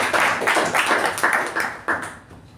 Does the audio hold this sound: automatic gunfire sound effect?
no